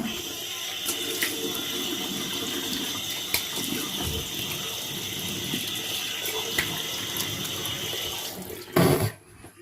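Water from a bathroom sink tap runs steadily while someone rinses foam cleanser off their face, a continuous close splashing stream that ends in a brief louder burst of splashing near the end.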